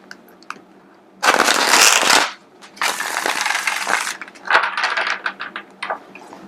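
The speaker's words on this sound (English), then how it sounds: "One last shuffle and we'll dive in." A Rider-Waite tarot deck being shuffled by hand, with two long crisp riffling bursts of cards followed by softer, choppier shuffling and a few light taps between them.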